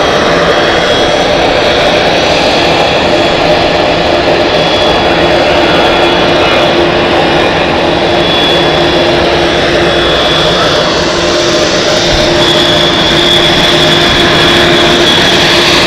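A Swiss airliner taxis at Zurich Airport, its jet engines giving a loud, steady whine and roar that fills the whole stretch without a break, heard close with no talk.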